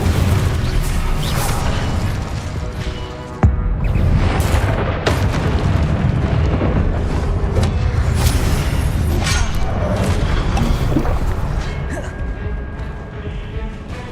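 Fire spell bursts in the Hogwarts Legacy video game, a loud, dense run of booming blasts and crackling impacts that fills the whole stretch, with a sharp burst near the middle and no pauses in the noise.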